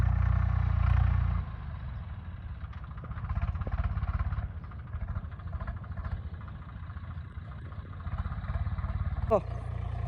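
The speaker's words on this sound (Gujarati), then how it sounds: "જો ટ્રેક્ટર આયલું જ આવે છે" A tractor drives toward the listener across a farm field during sowing, its engine a steady low chugging hum that stays fairly loud throughout the clip.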